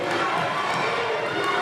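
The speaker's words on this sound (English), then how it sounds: "The crowd is fired up here." A crowd at a Bulldog Bash last-man-standing wrestling match roars in a steady, dense wall of cheering that fills the arena, with a commentator talking faintly underneath.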